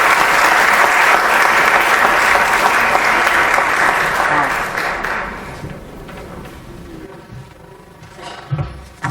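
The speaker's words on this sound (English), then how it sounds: "Please welcome the Academy's founder and Chairman Emeritus, Mr. Nanak Rupani, with a huge round of applause." Big audience applause greets the founder and Chairman Emeritus at a 34th anniversary awards gala, loud and dense at first, then thinning and fading out over several seconds.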